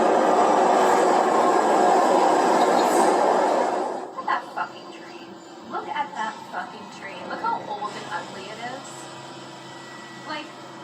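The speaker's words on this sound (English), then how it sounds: "Look at that fucking train." A train rumbles loudly through a grimy station for about four seconds, a broad steady roar that then drops away, leaving people talking intermittently over a quieter platform hum.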